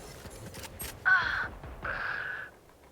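A hawk ability cast in a video game as a match plays out, heard as two short, bright screeching cries in a row over a low, busy game background.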